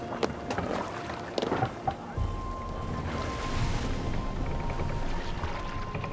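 A Viking longship under sail in the wind in Assassin's Creed Valhalla, with steady whooshing wind and water wash running continuously, a few creaks and knocks early on.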